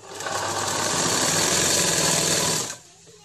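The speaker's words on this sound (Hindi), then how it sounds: "देखिए इस तरह मैं इसकी सिलाई कर रही हूँ।" Fast, loud machine stitching along the bottom of a dhoti shalwar runs continuously up close for under three seconds, then cuts off abruptly into quiet.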